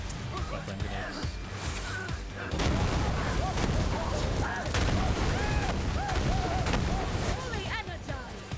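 Grenade explosions in the video game Borderlands 3 set off a dense run of loud, rumbling blasts and bursts that starts a few seconds in and keeps going to the end.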